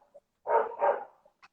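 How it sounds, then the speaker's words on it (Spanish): A pet dog barks twice in quick succession, fairly close, followed by a faint short yip, with no talking over it. "ladrando mi perro"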